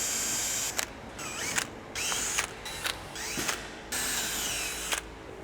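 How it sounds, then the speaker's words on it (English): Several bursts of a whirring power drill with an 8mm bit drilling holes in a car bumper, each lasting under a second, broken up by short pauses and clicks against a steady mechanical background hum. "now we're going to take an 8mm drill bit and drill out all the holes."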